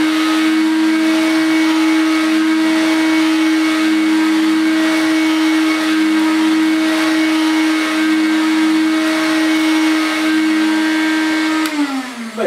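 A vintage Hooverette stick vacuum cleaner running with its fixed brush on carpet, a loud steady motor whine droning nearly unchanged, then dipping and sputtering briefly at the very end.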